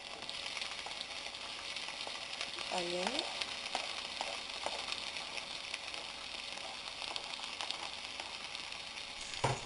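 Onions and red chilies sautéing in hot oil with mustard seeds, giving a soft continuous sizzle with scattered crackles, faint and close; a brief voice-like tonal sound rises once in the middle, otherwise no clear talk.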